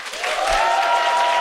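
Applause from an audience at a business event welcoming invited guests, a steady wash of clapping that stays loud for the whole brief moment, with no voices over it.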